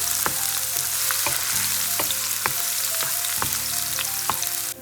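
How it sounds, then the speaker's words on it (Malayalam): Chopped onion and green chili sauté in hot oil in a pan, a steady close sizzle with a spoon tapping and scraping the pan every second or so. "മുളകും സവോളയും നമുക്കൊന്ന് വഴറ്റിയെടുക്കാം"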